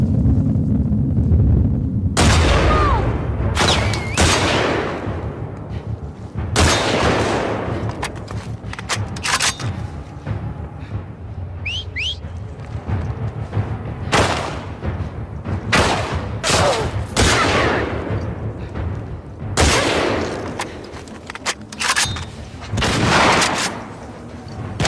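Dense rounds of video game gunfire in The Last of Us Part 2, loud bursts and single shots landing repeatedly over a constant roar of battle, with booming impacts scattered throughout.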